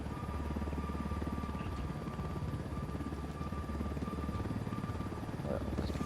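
Helicopter rotor thudding steadily close by in the Ghost Recon Wildlands video game, a dense continuous chop with a low drone that holds throughout.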